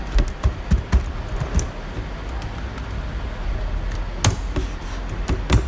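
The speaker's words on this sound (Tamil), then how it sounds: "ஸோ இங்கேயே டைப் பண்ணிடுறேன்." Keystrokes on a computer keyboard during a Java programming class, scattered irregular clicks over a constant broadband hiss, with a burst of taps near the end.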